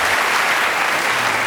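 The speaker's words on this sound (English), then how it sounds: "Give him an applause." Loud, dense studio audience applause on a British TV comedy panel show, a steady close roar of clapping with no talk.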